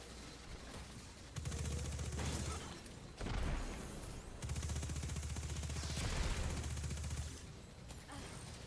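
Solstice SMG gunfire in the video game Destiny 2, two long, loud rapid-fire bursts with a short sharp shot between them, set over game effects.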